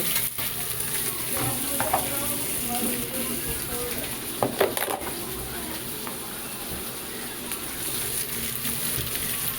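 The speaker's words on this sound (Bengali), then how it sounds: "এইবার আলু আর পেঁয়াজটা একসাথে একটু নাড়াই চাড়িয়ে নিই" Potatoes and onions frying together in a pan while being stirred, a steady close sizzle with scattered scraping stirs and a few louder clatters midway.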